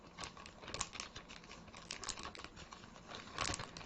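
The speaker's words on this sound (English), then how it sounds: "I'm going to use my second favorite tool in the universe to open this package, so there's a minimum of rustling and fuss." A package being opened with a tool, its packaging rustling and crinkling in soft, irregular bursts with a few sharper crackles, fairly quiet and steady throughout with no talking.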